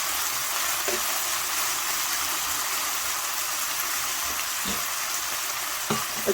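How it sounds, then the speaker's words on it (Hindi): Chicken fries in a pan over a gas flame turned down to medium-low, giving a steady, even sizzle with a few soft clicks and stirring knocks near the end. "चिकन को कवर करके इस तरह से थोड़ा सा पकने के लिए रख देंगे 8 से 10 मिनट के लिए"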